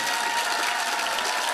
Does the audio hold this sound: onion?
no